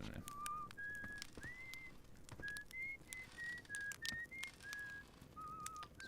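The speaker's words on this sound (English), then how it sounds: "Now that I know that Esker's the one whistling" Esker, a character in the video game Outer Wilds, whistles a slow melody of clear, sustained notes that rise and fall, fairly quiet over soft background noise.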